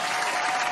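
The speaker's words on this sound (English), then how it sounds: "let me give a round of applause to Ohio" Crowd applause at a live storytelling show, a brief burst of many hands clapping, dense and loud.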